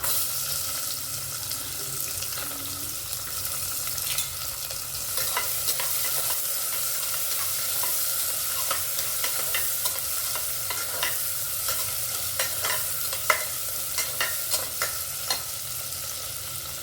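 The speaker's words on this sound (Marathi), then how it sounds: "थोडंसं फ्राय झालं की आता आपण ठेवूया कांदा" Onion frying with garlic and ginger in a pan makes a continuous soft sizzle, broken by scraping stirs and scattered clinks of a utensil against the pan, all close and moderately loud, with no talking.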